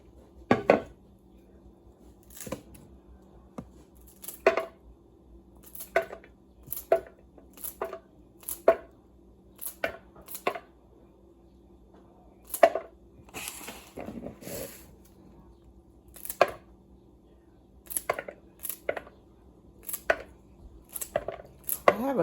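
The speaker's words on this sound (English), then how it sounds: "chop up all our vegetables" Knife chopping vegetables for gumbo on a cutting board, irregular bursts of sharp thuds with brief pauses between runs, close and clear with no talking.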